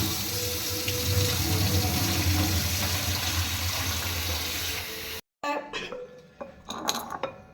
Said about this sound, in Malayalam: ഇതൊന്ന് കഴുകി നമുക്ക് ഒന്ന് കഴുകി ശരിക്കും വയ്ക്കാം